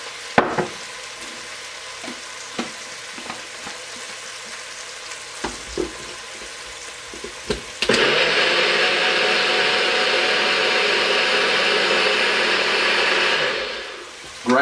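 A kitchen blender purees braised pork taco sauce to a thick consistency. After scattered clicks and taps, its steady, loud motor whir kicks in and runs for several seconds before winding down.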